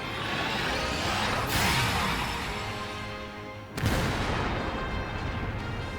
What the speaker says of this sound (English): Primed and ready. Firing Hekatos.